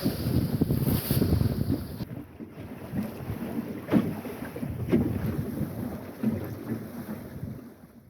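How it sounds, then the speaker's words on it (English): Steady wind roars across an open microphone aboard a wooden sailing dinghy on a close reach, making about 4.5 knots during a singlehanded crossing of the Minch, with water rushing against the hull and a few brief buffeting gusts. "Really, really nice amount of wind."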